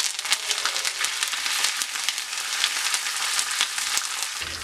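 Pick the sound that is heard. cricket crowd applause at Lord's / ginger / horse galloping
ginger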